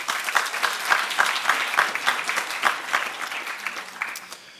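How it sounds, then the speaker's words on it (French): Applause from an audience at the Assemblée nationale during a high school debate prize ceremony: dense, loud clapping with distinct individual claps, gradually easing toward the end. "j'aimerais que l'on applaudisse et que l'on remercie l'Assemblée nationale de nous accueillir ce soir"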